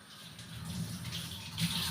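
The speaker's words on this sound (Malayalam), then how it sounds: "കൈ കഴുകിയിട്ട് വരാം" Tap water runs in a home kitchen as hands are washed before frying gram-flour bajji, a soft, steady splashing hiss at low volume.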